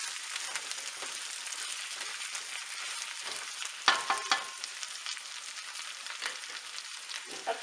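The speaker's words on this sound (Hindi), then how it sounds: "इनको हमने थोड़ी देर भूनना है," Ingredients for paya fry in a pan with a steady broadband sizzle, punctuated by a few louder stirring clanks and crackles partway through, with no voices.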